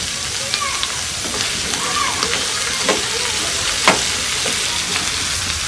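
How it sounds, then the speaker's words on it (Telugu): Vegetables seasoned with turmeric and salt sizzle steadily in a pan for village-style sambar, a continuous close frying hiss broken by a few soft stirring scrapes, with no talk. "ఈ మాత్రం బాగా వేయించుకోవాలి."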